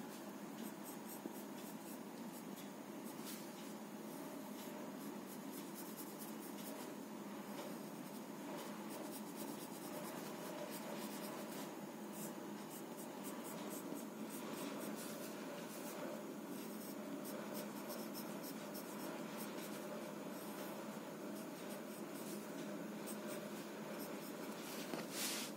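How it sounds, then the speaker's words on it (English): Pencil scratching and rubbing on paper while sketching a tree, a soft continuous strokey rasp, close and quiet, with no talking. "Now we will sketch the tree."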